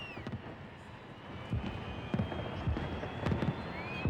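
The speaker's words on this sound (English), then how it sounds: "Tonight, the firework finale in Hyde Park." Fireworks pop and thud in scattered bursts at a finale display in Hyde Park, against a noisy outdoor background, with a few louder bangs toward the end.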